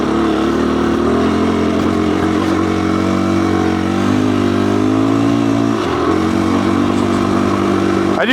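A Husqvarna FE 350S dirt bike rides a trail in Ocala National Forest, its close, loud engine humming steadily with small throttle swells and a brief dip near the end.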